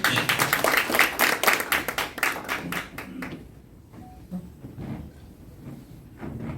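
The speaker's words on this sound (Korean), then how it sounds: "박수 한번" Clapping from the audience at a political party press conference in a hall, a fairly close burst of rhythmic hand claps for about three seconds, then scattered faint claps and room noise.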